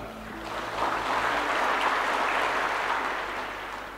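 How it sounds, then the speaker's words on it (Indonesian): Audience applause at a political speech by Indonesia's president, a broad steady wash of clapping that swells and holds for several seconds with no voices over it. "Jangan terlalu cepat tepuk tangan."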